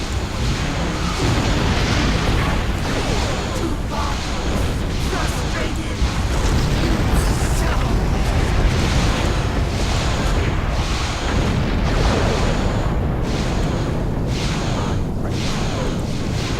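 Plasma torpedo explosions in the space combat game Star Trek Online roar continuously, dense booming blasts and rumbling bursts layered with whooshes, loud and unbroken throughout.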